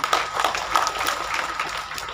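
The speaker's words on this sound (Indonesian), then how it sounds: "Tepuk tangan, tepuk tangan." Clapping from an audience at a Maulid gathering in an Islamic boarding school hall, a steady patter of many hands of moderate loudness, with no voices over it.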